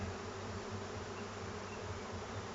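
A honey bee swarm buzzes steadily at an apiary during swarm capture, a dense continuous drone that stays loud and close throughout with no voices.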